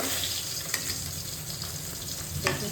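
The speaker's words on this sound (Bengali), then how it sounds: "এদিকে আমার মাছটাও ভাজা হয়ে যাচ্ছে" Fish fries in a pan on a home kitchen stove, giving a steady, close sizzle throughout. A few faint clinks and stirs cut through it, and nobody speaks.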